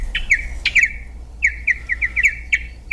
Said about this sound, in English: There is the pretty melodious sound of our mystery bird.